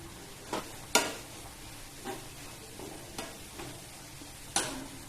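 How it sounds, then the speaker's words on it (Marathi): Banana flower vegetable cooks in a pan over a low flame with a soft, faint sizzle. A spoon scrapes and clicks against the pan at irregular intervals. "दोन मिनिटं भाजी मंद आचेवर शिजवून घेते"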